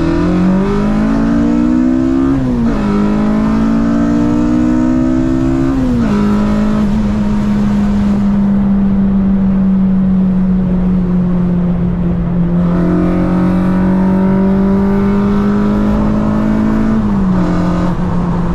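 A 240 hp 2007 Honda Civic Si accelerates hard in second gear, its engine note climbing steadily from inside the car, with a brief drop where the throttle eases before the revs build again.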